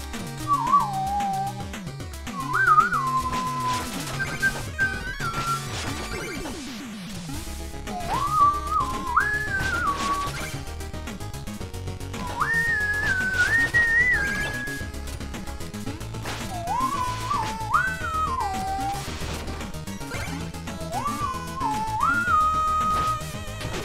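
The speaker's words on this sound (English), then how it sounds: "I ran out of things to say because I'm whistling." A person whistles short melodic phrases in repeated bursts over game music with occasional crashes and thwacks, the whistling close and clear.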